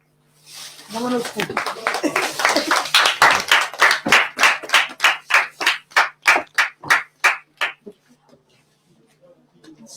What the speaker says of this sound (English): I want you all to stand up and clap for yourselves.